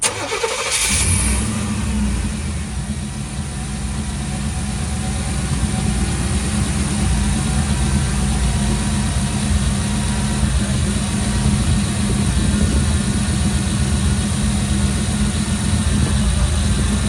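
A car engine fitted with a new Spectre Performance air intake cranks briefly and catches, then settles into a loud, steady idle heard up close with no talk.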